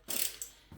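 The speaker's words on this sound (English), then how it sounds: "for the last pass at 80 foot-pounds, I'll switch to the bigger wrench" A torque wrench ratchets on ARP head studs on an LS6 cylinder head during a C5 Corvette engine rebuild. A quick close burst of dense clicking is followed by a softer click and another brief rattle near the end, all in a quiet shop.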